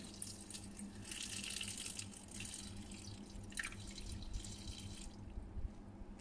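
About 100 grams of water is poured from a measuring cup while cooking steamed sea bass with lime, a faint, thin trickling and dripping in a quiet kitchen.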